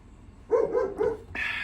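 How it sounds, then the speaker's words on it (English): Dogs bark indoors in a short burst of three or four loud, close yips and barks, one climbing higher and sharper at the end. "of course dogs are gonna go crazy. Now they're being really loud"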